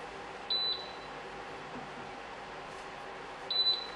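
Two short electronic beeps from a kitchen stove signalling it has been switched off, one early and one near the end, with steady low background hum between.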